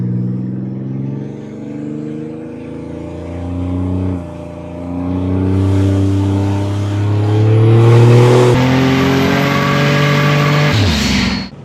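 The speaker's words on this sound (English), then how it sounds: "Oh, you hear its turbo." Turbocharged 1986 Buick Grand National engine revving up in stages, pitch climbing with each push, a thin turbo whine rising over the growl near the end.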